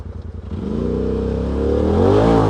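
A Polaris RZR XP Turbo side-by-side, running on E85 fuel, revs hard in low gear, its engine note climbing and swelling loud and close over a couple of seconds with no talk.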